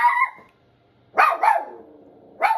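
A dog barks three times nearby, the first a drawn-out bark and then a quick pair after a pause, loud and close against an otherwise quiet indoor room with no talking.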